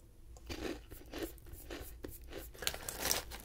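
Close crunchy chewing of a cream-filled donut snack with a crisp exterior, irregular crackling bites and mouth sounds repeating at an even pace, intimate and quiet.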